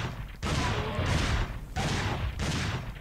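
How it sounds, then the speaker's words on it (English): Shotgun blasts at raptors in the survival-horror game Dino Crisis 2 come as several heavy, roaring bursts about every half second to second, each with a sustained rumbling tail, loud and close with no talk over them. "The shotgun seems a lot less powerful suddenly, which is really annoying"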